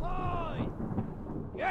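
A low, rolling thunder rumble from a storm in the video game Return of the Obra Dinn swells and fades over about two seconds, with faint rain-like hiss beneath it.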